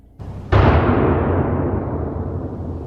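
A single loud gunshot-like blast that booms and rolls off slowly during urban exploration, preceded by a brief softer thump.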